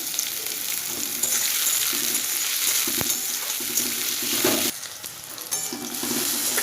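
Chopped garlic, ginger and green chilli fry with onion in a pan for chola bhuna, giving a steady close sizzle with occasional spoon clinks and stirring scrapes, and no voices.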